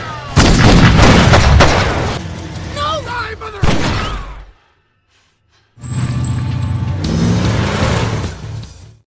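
Loud bursts of gunfire and booming blasts from a film shootout scene erupt amid chaotic noise, broken by a brief silence before the clamor resumes.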